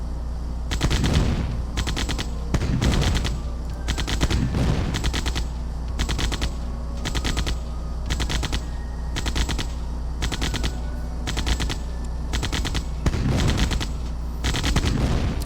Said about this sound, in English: I guess we can go ahead and destroy the SAM site since they're already shooting at it